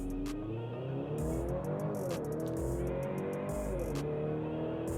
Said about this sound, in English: quick launch control